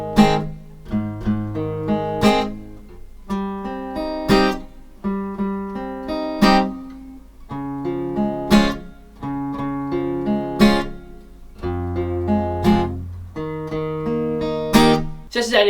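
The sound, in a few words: guitar playing song chords with bass notes, strums, arpeggios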